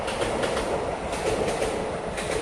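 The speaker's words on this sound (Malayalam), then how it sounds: "ഇതിൻ്റെ അടുത്ത് കൂടെ തന്നെ ട്രെയിന് പോകണ്ടിട്ടാ" A train rolls past near the Kadalundi bird sanctuary with a steady, loud rumble and rhythmic clattering of wheels over the rails, with no voices.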